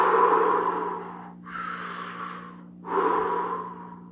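Slow, deep meditation breaths: a long inhale, then two steady airy exhales or inhales in a calm rhythm, close to the microphone with no speech.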